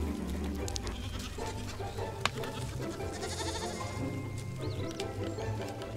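Spanish goat kids bleat in a herd nursery, several overlapping high, wavering cries near and far over a steady outdoor background, with a short sharp knock partway through.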